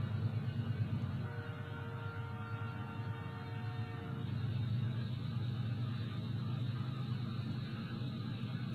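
Head end of a freight train passing at a crossing near a diamond, a loud steady locomotive rumble with a brief tonal horn-like whine, then rolling hopper cars clattering along close by.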